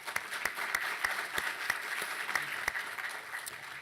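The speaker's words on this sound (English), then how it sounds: "I think everybody should give her a round of applause." Scattered audience applause at a panel event on medical education, fairly quiet and distant, with a few sharper individual claps standing out against a soft wash of hands.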